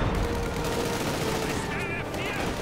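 Sustained gunfire rattles through a Company of Heroes 2 World War II battle, dense overlapping bursts under constant battlefield noise with a brief high whine near the end.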